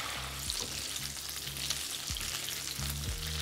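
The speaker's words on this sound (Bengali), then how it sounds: "ফুলকপিটাকে আপনাদের এইভাবে একটু স্লো ফ্লেমেই ভেজে নিতে হবে।" Cauliflower frying in oil over a slow flame, a close, steady crackling sizzle with faint stirring and no talk.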